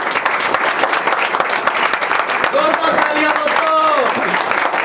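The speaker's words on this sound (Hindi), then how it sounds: "मैं चाहता हूँ एक बार आप लोग अपने लिए ज़बरदस्त ताली बजाइए।" Energetic applause from a seminar audience, dense continuous clapping throughout with a few voices calling out briefly within it.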